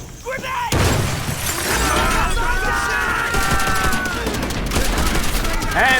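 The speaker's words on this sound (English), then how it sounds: "Grenade!" Loud burst of game combat from World at War: a grenade-like blast opens into sustained gunfire and shattering debris, with a voice and whining tones threaded through the din.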